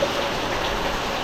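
Heavy monsoon rain falls outside in a dense, steady hiss that stays loud and even throughout, with no talk.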